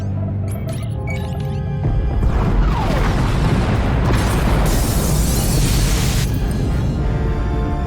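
Pod bays blowing up in the Star Wars: The Old Republic game, a loud, sustained roaring explosion with crackling debris that swells after an initial rumble and fills several seconds before easing off.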